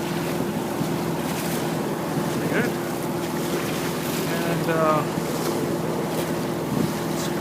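A diesel trawler motors through False Creek in Vancouver with wind and waves on the beam, giving a steady low engine drone under broadband wind and water noise, with brief speech.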